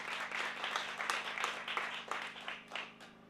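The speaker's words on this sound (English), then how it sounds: "Let's give a round of applause." An audience applauds at a National Lotteries Commission event, a dense, steady wash of many hands clapping for several seconds with faint voices mixed in.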